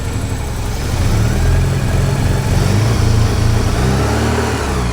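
Engine of a 1984 Porsche 944 NA idling during tuning with an exhaust gas analyzer, a steady, close low rumble with slight rises and an even throb, no voices.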